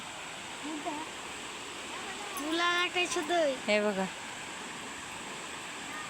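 A river swollen after a full day of rain rushes past in a steady, broad roar while people talk briefly over it.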